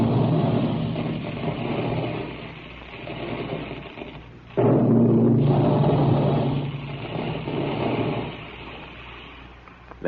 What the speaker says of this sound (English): That's the sound you hear when puffed wheat and puffed rice are shot from special guns in the Quaker plant